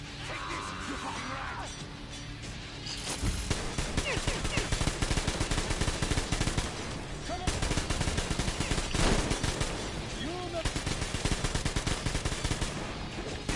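Dense enemy gunfire in the post-apocalyptic shooter Metro Exodus: sustained automatic bursts and rapid shots crackle nonstop after a quieter start, loud and close, with a few faint voice fragments in the mix.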